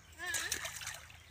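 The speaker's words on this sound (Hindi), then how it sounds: "अभी पानी में कैंकर क्यों फेंक रहे हो" A pebble is tossed into canal water and lands with a single short splash, brief and fairly close, as a voice chatters over it.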